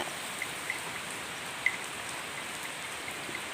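Rain falls steadily on a surface, a dense, even hiss with occasional faint drop ticks and no voices.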